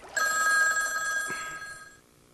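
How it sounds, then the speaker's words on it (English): A telephone bell rings in one sustained, bright burst lasting about two seconds, close and clear, with no talk over it. "the telephone rang"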